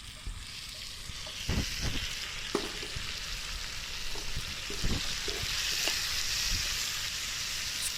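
Chopped tomatoes fry for an Afghani omelet, a soft continuous sizzle in a pan with intermittent clinks and scrapes of stirring, moderately close and without talk.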